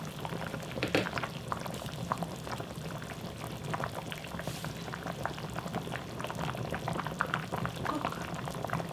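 Soft tofu stew bubbling steadily in a pot, a continuous low churning boil with scattered pops and gurgles, close and moderately loud, with faint voices now and then in the background.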